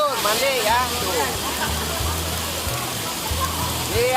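Waterfall pouring and splashing in a river canyon during body rafting at Green Canyon, a loud continuous watery wash with voices and tonal calls sounding over it.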